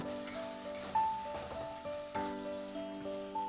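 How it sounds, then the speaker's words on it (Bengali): Spice paste of salt, turmeric, cumin, coriander and chili powder sizzles and fries in hot oil, with a steady close crackle and several sharp stirring scrapes and bumps against the pan. "দিয়ে ভালো করে মশলাটাকে কষিয়ে নেবো তেল ছেড়ে আসা পর্যন্ত"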